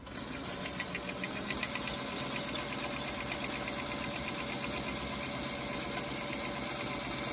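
A sewing machine runs steadily while stitching a quilt block along a marked line, with a continuous mechanical hum and fast, even needle rattle that holds throughout without talk.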